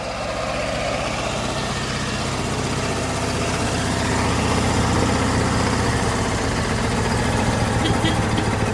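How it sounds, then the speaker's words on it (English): A Porsche Diesel Standard two-cylinder tractor engine runs steadily at speed, a continuous low diesel drone close by, with people talking over it. "Can hardly tell it's a 2-cylinder when it's running at RPM."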